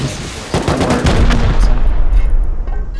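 Rust video game gunfire during a raid defense, a burst of dense, loud shots beginning about half a second in and continuing as a sustained rattle of reports for the rest of the clip.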